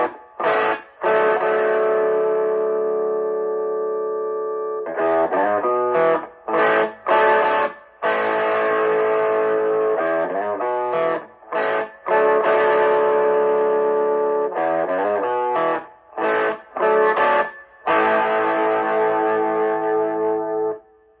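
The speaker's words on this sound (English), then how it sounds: "I've got it voiced kind of more of a, like, just a moderate amount of overdrive, not a lot, but more of a kind of an American rock and roll sound" A Carvin V3M tube guitar amp channel set to moderate overdrive for an American rock and roll tone, heard as electric guitar chords and riffs with short gaps between phrases, loud and close with no talking.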